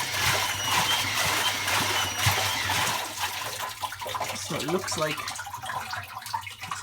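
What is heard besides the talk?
water dripping inside a washing machine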